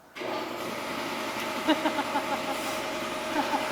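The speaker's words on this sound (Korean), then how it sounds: "저놈의 컴프레셔가" An engine-driven compressor starts up and runs with a steady mechanical drone, with faint intermittent knocks and clatter over the hum.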